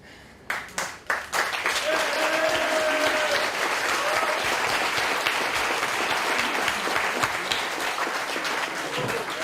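Sustained audience applause and clapping at a Galacon 2012 convention panel, starting with a few scattered claps then swelling into a full, steady round lasting several seconds, with some voices mixed in.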